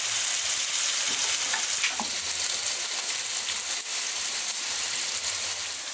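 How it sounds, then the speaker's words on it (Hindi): Sliced onions fry with a little salt in a pan while cooking stuffed aubergines, a close, steady sizzle and crackle that runs throughout with faint stirring scrapes. "पाँच मिनट के बाद मिलते हैं, जब तक ये प्याज ब्राउन हो।"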